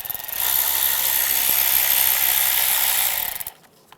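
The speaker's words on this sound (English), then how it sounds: "Use a 10mm socket," A ratchet fitted with a 10mm socket loosens a bolt on a 1996-2002 Toyota 4Runner during valve cover gasket work. It makes a rapid, steady ratcheting buzz for about three seconds, then cuts off sharply.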